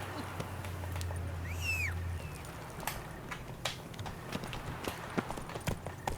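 The horse Roach in The Witcher 3 video game trotting with quick, soft hoofbeats, a faint bird call overhead and light game ambience behind.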